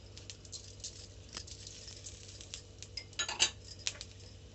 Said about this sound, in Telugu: ఇప్పుడు తెల్ల నువ్వులు వేసుకుందాం